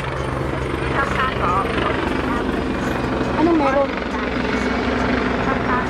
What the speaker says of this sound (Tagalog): Hala, may helicopter.